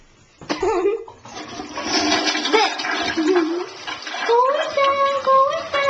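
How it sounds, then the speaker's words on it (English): A toilet flushes in a cartoon bathroom scene, a loud rushing, swirling gush of water that builds and runs steadily for several seconds, with a voice and cartoon sounds mixed over it. "I'm flushed down the toilet!"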